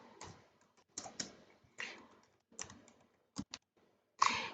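Quiet, sparse bursts of typing on a computer keyboard, a few short clusters of key clicks separated by silent gaps, close and without talk.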